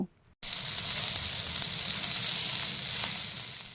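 Softened cauliflower fries in a wok, with a loud, dense, continuous sizzle and occasional stirring sounds after a short quiet start.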